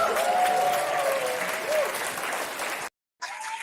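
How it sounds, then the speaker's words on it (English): A studio game-show audience bursts into loud, dense applause and a few whistles, sustained for several seconds before cutting out abruptly, then a softer burst resumes. "Wow, thunderous applause, guys."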